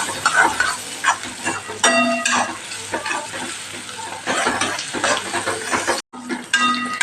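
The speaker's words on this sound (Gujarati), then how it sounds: "આપણે ડુંગળી સાથે સતત સરસ સાતળી લેવાની" Onions sauté in a pan with a crushed added ingredient and are stirred continuously, giving a loud, close sizzle broken by scraping and clattering strokes of the spoon.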